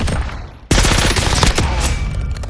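Automatic weapon in the Warzone video game firing a fast, sustained burst of rapid shots, loud and close, kicking in abruptly after a brief quieter moment.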